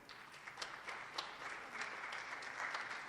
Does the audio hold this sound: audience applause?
yes